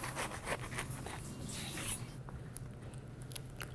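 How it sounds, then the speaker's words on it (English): A knife saws through a Philly cheesesteak sandwich, its bread crust rasping and crackling in quick close strokes that fade to softer scraping toward the end. "the real beauty comes when we cut it open and see what's inside"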